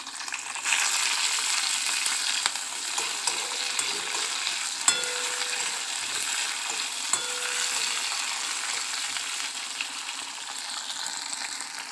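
Curry leaves and green chillies crackle and sizzle in hot oil for dhokla tempering, a steady close frying hiss with scattered pops and light stirring.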